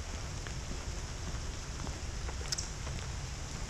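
Steady rain falls through the woods of Sharon Woods park on a wet September day, a continuous broadband patter with scattered nearby drips and no voices.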